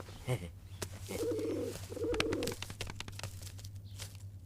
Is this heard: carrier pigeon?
yes